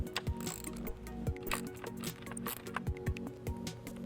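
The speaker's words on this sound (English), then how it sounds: "We're going to go ahead and remove this bolt using a 7/16 socket." Ratchet with a 7/16 socket backing a bolt off the battery's positive terminal on a 2007 Mitsubishi Outlander, steady close rapid clicking with a few sharper ticks, quiet and alone.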